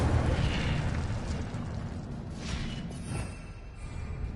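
Incendio fire spell cast in the video game Hogwarts Legacy, a whooshing burst of flame with booming, crackling eruptions that swell and fade in several waves.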